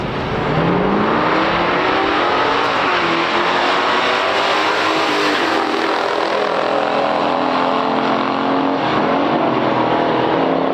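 A 1969 Mustang Cobra and a 1968 AMC AMX launch in a stock drag race, their engines roaring loud and close with rising revs and gear changes through a sustained, unbroken run.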